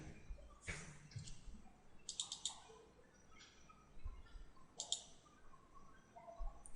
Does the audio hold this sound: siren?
no